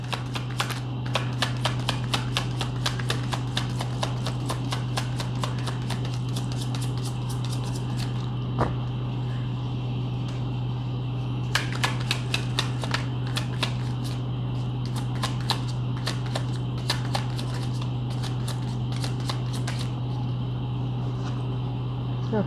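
Tarot cards are shuffled in rapid riffling bursts of dense clicks, pausing briefly around the middle before resuming, over a steady low electrical hum with no talk.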